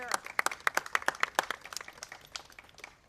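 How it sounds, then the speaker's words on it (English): An audience at a Cook County Juneteenth celebration gives a short burst of scattered hand clapping. The sharp, distinct claps come quickly at first, then thin out and fade over a few seconds. "Let's give her a round of applause."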